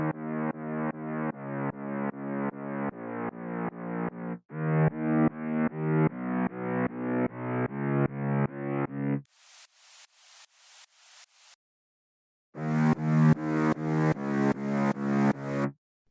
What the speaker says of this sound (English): Now I will add mid bass.